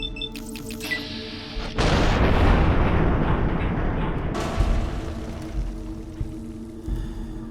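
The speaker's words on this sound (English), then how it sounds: "Took like 2 rockets to deal with that thing." Rocket launcher blasts in the video game Fallout New Vegas, Lonesome Road DLC: a short burst of clicks and firing, then a loud, sustained explosion rumble that decays into a second heavy boom and fading debris.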